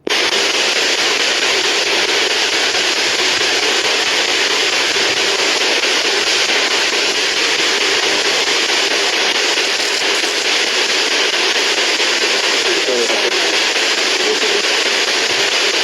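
Dense, loud spirit box radio static hisses continuously with choppy crackling and sweeping noise, no clear voices throughout.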